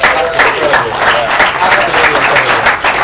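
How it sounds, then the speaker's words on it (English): Audience applause at a whale festival show in Brighton, loud and close, with dense, steady clapping from a large crowd throughout. "a round of applause, guys"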